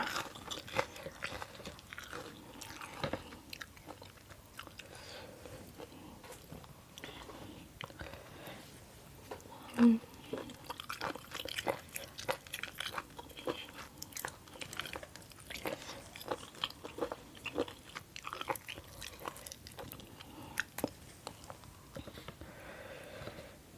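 Crunchy squid miang leaf wraps being eaten up close, with repeated crisp bites and chewing crunches in an irregular rhythm, fairly quiet throughout.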